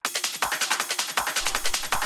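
A driving, busy Schranz rave percussion loop with rapid, evenly spaced hits, bright and crisp in the highs, repeating steadily at close range.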